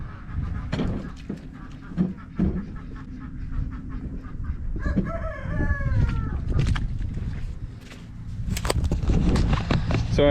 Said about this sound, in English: the chickens, when they're out, they'll be able to come around here and scratch at it and pick through it